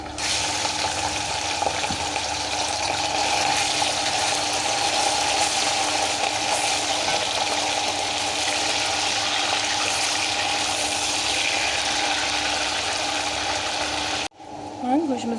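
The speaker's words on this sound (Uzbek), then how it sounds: "Sayimizni birinchi bo'lib go'shtimizni qovurishdan boshlaymiz" Meat sizzles in a pot as the base for a lagman sauce, a steady, close hiss of frying that runs unbroken until a brief cut just before the end.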